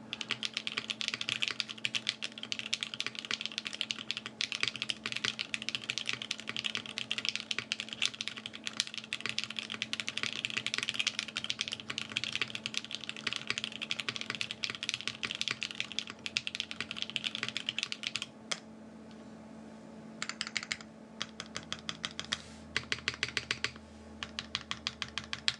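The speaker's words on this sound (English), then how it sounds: "Quick typing sounds test." Fast, steady typing on a mechanical keyboard fills the room, a dense close run of crisp key clacks for over twenty seconds, thinning into scattered bursts near the end over a faint low hum.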